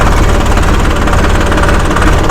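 An Eicher 551 Super+ 49 hp tractor engine from 2022 runs loud and close in a dense, steady diesel roar with rapid low pulsing throughout and no pause.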